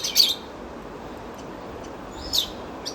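Caged birds at an aquarium's bird section give two short high chirping bursts, one at the start and another after a quiet stretch, clear but not loud over a soft background hiss.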